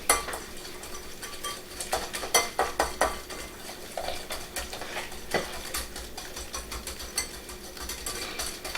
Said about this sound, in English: now let's whisk together.